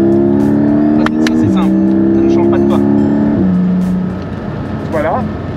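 Car engine accelerating hard, climbing in pitch and dropping at each upshift through the gears, loud and close, while people talk over it.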